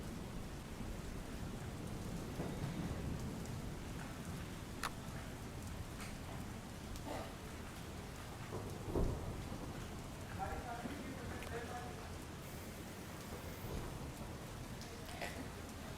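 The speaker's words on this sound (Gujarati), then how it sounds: "બોટાદની અંદર પણ ભારે વરસાદ વરસી રહ્યો છે" Steady heavy rain pours down in Botad, Gujarat, a dense, even hiss throughout, with a dull low rumble of thunder in the distance near the middle.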